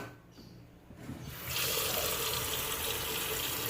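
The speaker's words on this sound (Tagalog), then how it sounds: "tubigan na po natin" Water poured into a cooking pot of pork pata, rising after a second from a soft trickle into a steady, fairly loud rushing pour, close and without speech.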